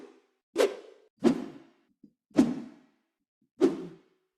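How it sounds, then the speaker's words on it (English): Four sharp swishing sword impacts at uneven intervals, each a quick metallic strike that rings briefly, close and clean against silence. "So here's what my sword impact sounds like."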